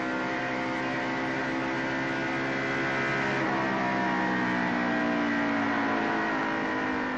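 A 1994 NASCAR stock car at Pocono, engine note sweeping and easing as the driver lifts off the throttle through turn 3, a loud continuous harmonic drone with no talk.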